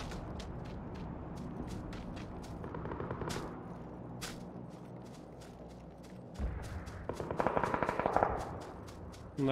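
Machine gun fire in a PUBG firefight comes in repeated rapid bursts of sharp shots. Some sound distant and others nearer, and the shots grow denser and louder toward the end.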